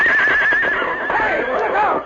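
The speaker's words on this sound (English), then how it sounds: "The intelligent stallion suddenly sprang forward, right into the grouped horses, rearing and kicking" Silver, a stallion, gives a loud close whinny with a wavering pitch that rises and falls over about two seconds, while a voice speaks underneath.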